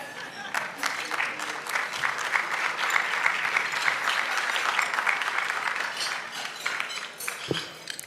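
An audience applauds students at an awards gala, sustained clapping from a large room that swells and then tapers off, with a brief low thump near the end.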